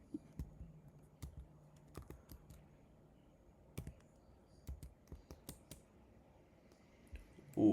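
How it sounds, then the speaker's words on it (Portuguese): Someone types on a computer keyboard while coding in Python, producing sparse, quiet key clicks in short irregular clusters with long gaps between them. "eu tô digitando, nem tá indo"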